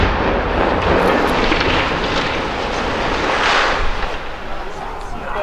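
The Murray-Courtright smokestack implosion, a sustained heavy rumbling roar heard from a distance that fills the whole stretch and slowly fades, with voices faintly audible under it.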